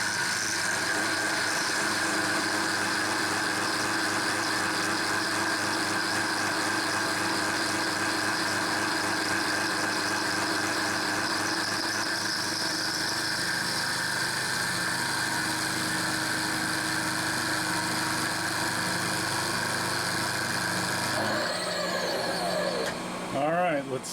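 A vertical milling machine takes a light cut on a part clamped in a vise riser fixture, a steady close whine and motor drone running the whole time, with a brief shift in tone near the end and no speech.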